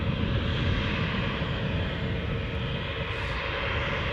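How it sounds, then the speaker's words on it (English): Air France Embraer 190 jet departing Newcastle airport, its engines producing a sustained heavy roar that holds steady throughout, with no talking. "let's have this departing Embraer 190 Air France hot"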